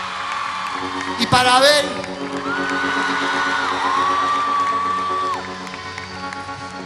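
Crowd at a concert at the Festival de Peñas de Villa María 2013 cheers and whoops steadily, with shrill whistles, beneath someone speaking over the PA.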